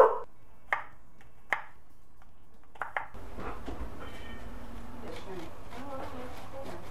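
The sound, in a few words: chopping apples for butternut squash soup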